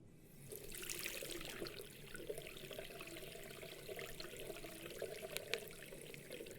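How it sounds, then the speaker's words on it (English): Water runs from a sink tap into a pitcher, a steady splashing and trickling stream that starts abruptly and continues close and fairly quiet throughout, with no talking. "I need you to fill this pitcher with 400 milliliters of water. There's a sink on that counter over there."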